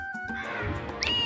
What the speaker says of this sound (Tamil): பூனை கத்துது